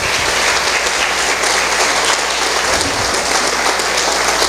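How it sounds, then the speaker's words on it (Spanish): Loud, dense applause fills a Spanish-language church service as the congregation claps steadily and evenly for several seconds, close and continuous, with no voices on top. "Dele un fuerte aplauso al Señor."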